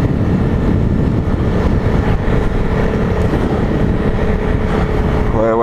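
A used Honda CRF 300L motorcycle on its first ride, with a steady loud engine drone and heavy wind rush throughout, and a brief rising whine near the end.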